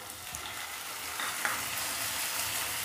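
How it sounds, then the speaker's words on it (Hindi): Tomatoes go into onions sautéing in a pan, and a dense, even sizzle holds steady throughout with a few faint stirring scrapes. "अब डाल देंगे यहाँ पर टमाटर"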